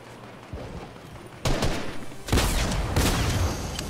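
Fortnite gunfire during a Battle Royale match, a few sharp heavy shots and bursts, loud and close, each followed by a brief crackling tail, with quieter distant shots before them.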